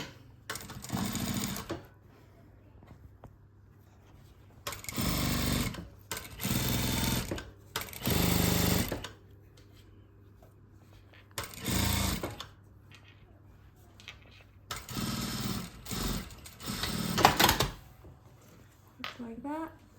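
Domestic sewing machine stitching a quilted makeup bag with a fluffy padded side, running in several short bursts of steady mechanical whirring separated by quieter pauses and handling noise.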